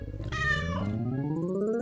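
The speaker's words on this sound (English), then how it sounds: "you'll always have Radish the cat!" Radish the cat from the game Spirittea gives a single drawn-out, rising-then-falling meow, close and clear, ringing over a bright sustained musical backdrop.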